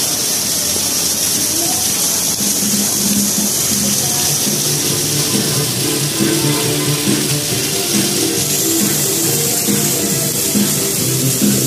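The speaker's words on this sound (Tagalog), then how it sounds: "Tindi ng buhos ang ulan, no?" Heavy rain pours down on CM Recto street in Divisoria, Manila, a dense, constant wash of water, loud and unbroken, with a faint low rumble beneath.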